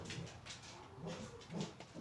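Several dogs whimper and whine in short, high-pitched bursts at moderate distance, coming in a loose, irregular rhythm of soft cries with no talking.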